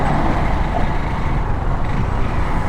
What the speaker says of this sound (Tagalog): merong mga malalaking mga sasakyan na dumadaan dito